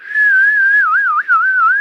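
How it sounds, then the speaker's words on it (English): A loud, clear human whistle holding a high steady tone that then wavers up and down in a quick warble, alone with no background noise. "high frequencies like a whistle will have significantly shorter wavelengths"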